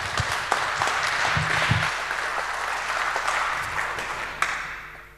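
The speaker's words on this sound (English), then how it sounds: "So a warm applause for Jelle." Conference audience at the SHA2017 hacker camp applauds a speaker on a security talk, a sustained, moderately loud round of clapping with a few sharp individual claps standing out, tapering slightly toward the end.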